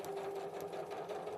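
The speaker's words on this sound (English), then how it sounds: "So just make sure I don't sew through my fingers." A sewing machine stitching fabric runs in a steady, fast mechanical whir with a constant hum, close and moderately quiet, without pause.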